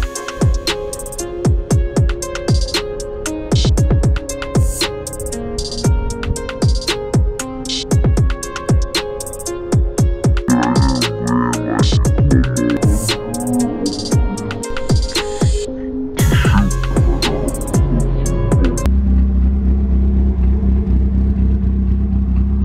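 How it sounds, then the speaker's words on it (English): A 1997 Mazda Miata MX-5 with a fully built engine and individual throttle bodies rumbles close by, with repeated sharp revs and clattery bursts, then drops back to a low steady idle near the end. "As you can hear, like, the engine sounds amazing just idling"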